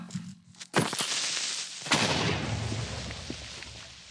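A sudden loud blast from a Minecraft creeper explosion erupts, followed by a rumbling, crackling decay, then a second smaller burst fading into noisy debris.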